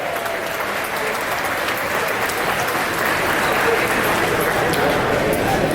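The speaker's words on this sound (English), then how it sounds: "Let's give them a big round of applause" A large audience applauds the musical performers at a city event, the clapping steady, dense and loud throughout with crowd murmur underneath.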